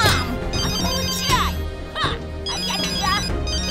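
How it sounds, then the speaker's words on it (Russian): Mobile phone ringtone in a Barboskiny children's cartoon, a bright melodic ring repeating in short phrases over a busy soundtrack with sliding sound effects and brief voices. "твой телефон."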